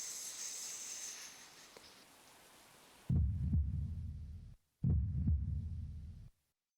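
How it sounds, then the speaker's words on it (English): Loud, heavy heartbeat in the horror video game Safe and Secure, two long throbbing bursts of low thumping that stop abruptly, following a quieter stretch of hissy ambience. "Is it just me or does our heartbeat sound louder?"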